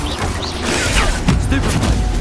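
A spell cast in the fantasy action game Hogwarts Legacy, Expelliarmus, lands as a loud burst of crashing, creaking and whooshing effects. It comes in close, dense layers over a steady low rumble for a couple of seconds.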